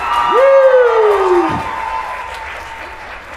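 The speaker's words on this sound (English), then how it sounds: "One more round of applause for the Beverly Jazz Band." Loud audience applause and cheering for a high school jazz band at a performance, with a long sliding whoop rising then falling over sustained clapping that gradually fades.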